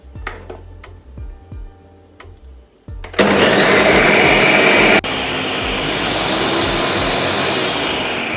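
A few soft clinks and taps come first, then a 1500-watt Ninja Nutri blender with Auto-IQ roars on loudly, pulverising cucumber, apples, curry leaves, avocado pear and spinach in a sustained whir that steps down slightly midway.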